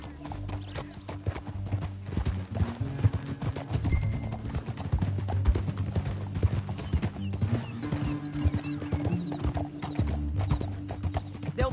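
Rapid clip-clop of horse hooves at a steady trot in Red Dead Redemption 2, close and continuous, with a low engine-like hum and faint background sounds.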